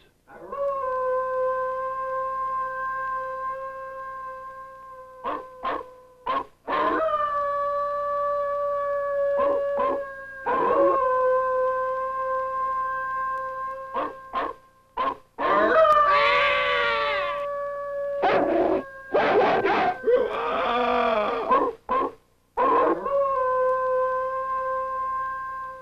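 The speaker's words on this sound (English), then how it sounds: "That day at dusk, they heard the cry of the wolves." Wolves howl at dusk in a long, loud chorus of sustained, wavering cries, with several voices overlapping and a few breaks and yelps in between.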